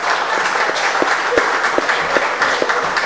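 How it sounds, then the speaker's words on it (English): Loud, sustained audience applause at the opening of an art exhibition in Youghal, a dense even roar of many clapping hands with a few sharper individual claps standing out. "Could you give your hand and give a big round of applause?"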